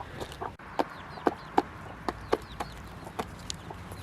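Chickens in a garden chicken run give soft, repeated clucks at irregular intervals, faint and at moderate distance over low outdoor background noise.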